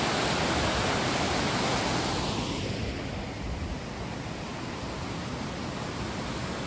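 Water rushes out of a tunnel from Kallar toward Idukki dam near Udayagiri village, a loud continuous broadband roar that eases slightly partway through, with no voices.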